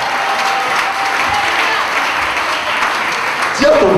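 A church congregation applauds in a steady, dense wash of clapping that holds for the whole stretch, with a brief voice or cheer rising near the end.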